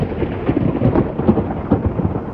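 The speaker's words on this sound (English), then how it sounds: "I don't know if you heard that thunderclap, but we got a storm coming in" Thunder from an approaching storm rolls in a low, grumbling rumble that swells and pulses for a couple of seconds, heavy and resonant, with no talk over it.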